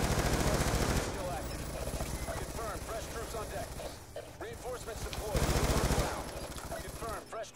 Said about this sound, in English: I think that sentry gun's still online